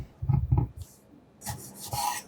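Knife slicing cherry tomatoes in half on a board, a few short close cuts and rasping strokes in two quick pairs, no talking.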